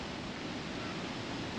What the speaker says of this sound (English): I could really hear the water running.